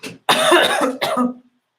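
A short fit of harsh, chesty coughing, three or four close bursts, up close and alone.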